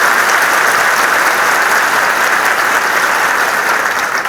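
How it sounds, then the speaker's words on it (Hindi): A crowded hall of audience members claps loudly and continuously at an academy ceremony, dense applause holding steady with no pause throughout. "सबसे पहले ताली मेरे लिए नहीं, सर के लिए"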